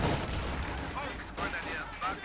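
Grenades and gunfire in a WWII real-time strategy game, with a dense continuous battle rumble, scattered sharp shots and blasts, and commentary voices running over it.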